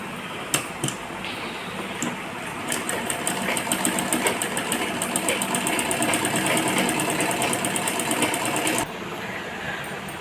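Domestic sewing machine running a straight seam along folded fabric, a fast steady mechanical rattle of stitching that holds for about eight seconds and then stops abruptly.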